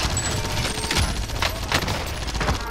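Rapid bursts of gunfire in Call of Duty: Modern Warfare crackle densely, overlapping shots in a busy, loud stretch of combat noise.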